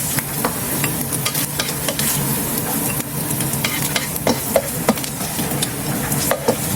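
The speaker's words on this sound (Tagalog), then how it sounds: "gigisa na tayo ng bawang sibuyas" Garlic and onion sauté in a hot pan for fried rice, a loud, steady sizzle broken by frequent scraping stirs and light clicks of a utensil against the pan.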